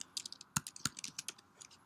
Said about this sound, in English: Pardon my typing there.